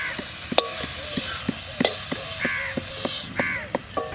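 Cauliflower frying lightly in a pan, a steady soft sizzle broken by sharp, irregular clicks and scrapes of stirring, close and fairly loud with no talk.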